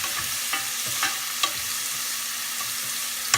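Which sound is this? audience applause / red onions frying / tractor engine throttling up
red onions frying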